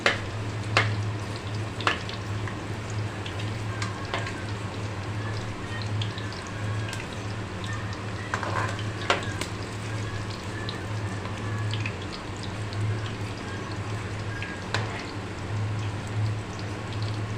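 Stuffed karela (bitter gourd) frying in a pan, a steady low sizzle and crackle with occasional soft clicks and pops throughout.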